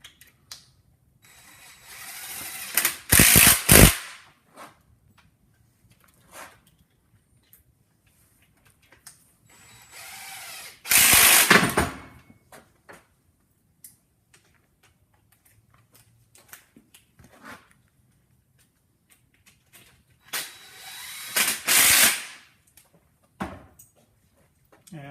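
Ratchet backing out Land Cruiser transfer case bolts, with three separate bursts of rapid, loud clicking spread across a mostly quiet stretch and a few light metallic taps in between.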